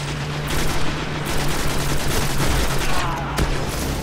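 Shotgun blasts and other gunfire ring out in a Destiny PvP Control match, dense rapid shots and booms layered over continuous loud game noise.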